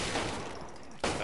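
Gunfire in the zombie shooter Resident Evil Umbrella Corps comes as a dense, loud burst of game shots, with a sharp fresh blast near the end.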